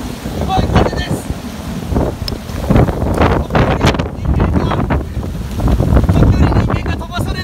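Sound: strong typhoon wind on Ishigaki Island

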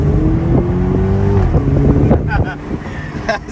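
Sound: car engine revving as driver accelerates

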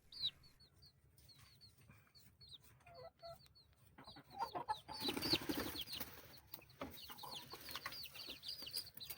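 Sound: Rhode Island Red chickens clucking

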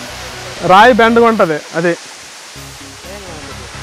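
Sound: waterfall, water flowing over rock

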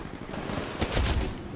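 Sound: smart pistol gunfire in Titanfall video game

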